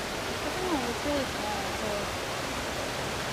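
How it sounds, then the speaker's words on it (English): Steady broadband rush of a small waterfall on the Ka'au Crater trail, a constant near hiss with faint birdlike chirps over it. "I'm gonna guess this constitutes one of the waterfalls."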